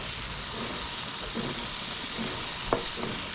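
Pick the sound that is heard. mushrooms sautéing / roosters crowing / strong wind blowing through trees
mushrooms sautéing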